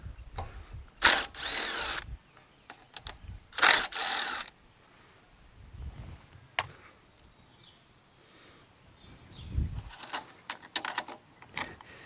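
Ratchet wrench loosening the 10 millimeter air filter base bolts on a Honda HRR2163TDA self-propelled lawn mower, heard as a few loud bursts of clicking and metallic turning close by, separated by quieter handling noises.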